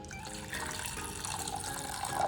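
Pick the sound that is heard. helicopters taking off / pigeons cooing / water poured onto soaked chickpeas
water poured onto soaked chickpeas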